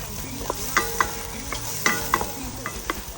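Garlic and onion sauté in oil in a pan on a stove, a constant bright sizzle with repeated spatula scrapes and sharp taps at an uneven rhythm, heard up close.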